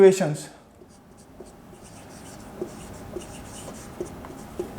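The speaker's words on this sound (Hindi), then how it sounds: "यहां मैं लिख रहा हूं जी इनकी" Chalk or marker scratching out math equations by hand on a board during a straight-line slope lecture, a soft continuous rubbing with faint periodic taps, heard alone after a brief opening sound.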